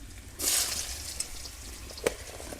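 Potatoes go into hot oil with cumin in a wok, setting off a sudden burst of sizzling that settles into a quieter fry, with a light clink near the end.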